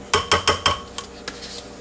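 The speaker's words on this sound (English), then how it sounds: "I'm going to put a little bit more oil in." A metal spoon clinks repeatedly against a container while adding more oil to herbs for a comfrey salve: four sharp, evenly spaced knocks close up, then two lighter taps.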